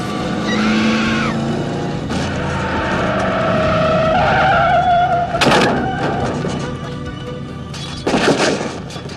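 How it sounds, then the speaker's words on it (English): Truck braking hard and skidding in the 1988 Halloween 4 film, long tire squeals over engine roar, then sharp thuds and impacts near the end, loud and close. "Rachel takes control of the truck, sending Michael into the street as she hits the brake."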